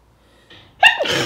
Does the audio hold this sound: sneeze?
yes